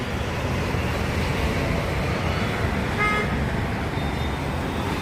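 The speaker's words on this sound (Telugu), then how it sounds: "పోయే బండ్లు పోతానండి, వచ్చే బండ్లు వస్తానే ఉండే, ఫుల్ బిజీ." Busy evening road traffic in Vijayawada, a dense continuous roar of passing vehicles with a short car horn toot sounding midway and another faint one later.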